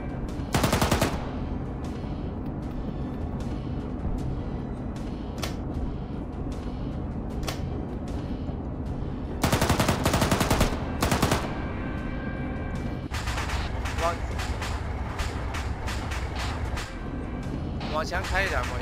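A turret-mounted machine gun in Arma 3 fires in several long, loud bursts, separated by scattered single distant shots and vehicle rumble, with people talking over the combat.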